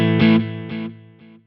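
A distorted electric guitar through a mono delay effect, using the Nolly X plugin on a Quad Cortex, strikes a chord, followed by fainter repeats at regular intervals, each echo quieter than the last.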